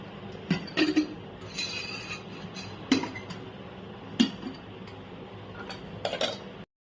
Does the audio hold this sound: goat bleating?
no